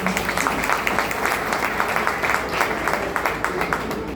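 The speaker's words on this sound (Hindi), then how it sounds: "आइए इस महत्वपूर्ण प्रस्तुति के लिए हमारे सभी विद्यार्थियों के लिए एक बार फिर से जोरदार तालियां बजाएं" Applause from an audience at a school Grandparents' Day celebration, honouring students after their presentation; steady, dense clapping with a crowd wash throughout, moderately loud and continuous.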